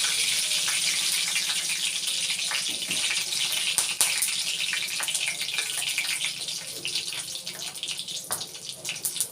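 Mustard seeds with curry leaves crackle in hot oil, a steady bright sizzling hiss with scattered sharp pops throughout, close and continuous.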